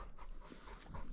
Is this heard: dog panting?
yes